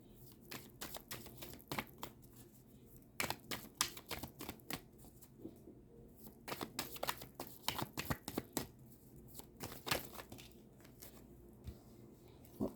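Tarot cards are shuffled and drawn by hand in quick, crisp riffling bursts with brief pauses between them, close and fairly loud, with no talking.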